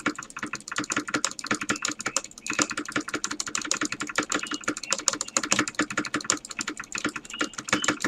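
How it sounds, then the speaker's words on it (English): Rapid, dense keyboard typing and clicking fills the whole stretch, with constant mouse clicks and space bar presses hammered quickly and loudly at close range while testing an HTML5 remake of a rings browser game. "So I'm spamming click and space."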